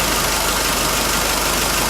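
A Nissan Navara engine idles during a throttle body cleaning with a tool fitted in the intake, giving a loud, constant, close-up mechanical rumble that never changes.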